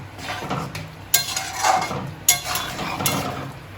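Chicken keema ghugni with peas, potatoes and roasted spice mix is stirred in a pan. Rhythmic scraping strokes and a few sharp clanks of a spoon against metal sound over a low sizzle.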